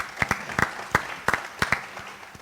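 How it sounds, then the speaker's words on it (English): Applause from a summit audience: a thin scatter of separate hand claps, sparse and fairly faint, fading out within a couple of seconds. "So let's give him a round of applause."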